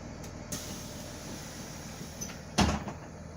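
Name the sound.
school bus stop arm and student door opening and closing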